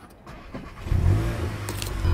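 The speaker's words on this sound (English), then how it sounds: "I'll turn it on now." A 2021 VW MK8 Golf GTI Clubsport with DSG gearbox fires up from its push-button start, a brief starter whir swelling into a loud, steady close-up idle rumble.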